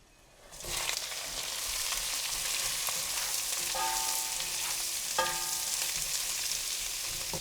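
Onions and red chillies with mustard seeds hit hot oil in a pan for vegan mustard potatoes, bursting into a loud, steady, close sizzle that holds throughout, with a few light utensil clinks and no voices.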